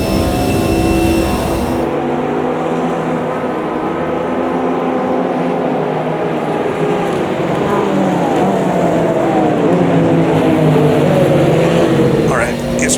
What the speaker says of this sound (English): Got a Nissan coming up behind me.